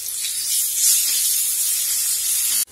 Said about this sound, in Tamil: இஞ்சி பூண்டு விழுது நல்லா வதக்கி விடுங்க